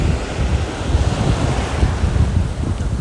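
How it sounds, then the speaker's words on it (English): Ocean surf washing in close by on a warm Florida beach, a continuous broadband rush of breaking water with steady wind buffeting the microphone and no pauses. "Waves aren't too rough."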